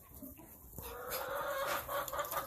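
A young rooster clucks and chatters close by in a farm shop, soft at first and then a louder, busy run of throaty calls.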